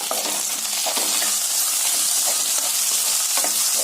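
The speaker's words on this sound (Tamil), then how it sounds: "அந்த தக்காளி இதோட சேர்த்து வதக்கிடலாங்க" Onion and tomato sauté in hot oil for a Coimbatore-style millet rice and dal dish, giving a loud continuous sizzle broken by repeated stirring clinks and scrapes.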